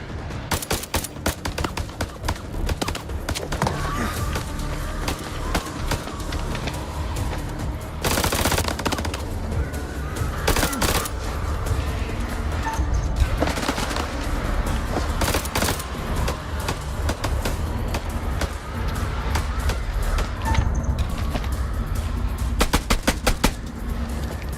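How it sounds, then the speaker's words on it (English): Sustained full-auto gunfire in a video game, dense overlapping bursts and rapid shots rattling loudly and continuously with hardly a break. "Why do they keep shooting in full auto?"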